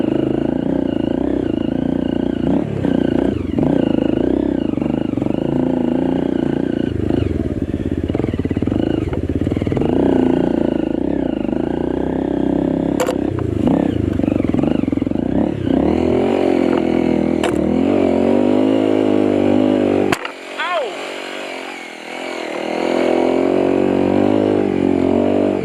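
A Honda CRF250M motorcycle rides along continuously, its engine note rising and falling with throttle, clattering in places, with a sudden drop around the twentieth second before it picks up again.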